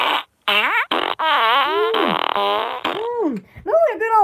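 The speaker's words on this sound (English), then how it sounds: "Really a good old fart." A string of long, squeaky fart noises bends up and down in pitch, loud and close, running almost continuously with a few brief gaps.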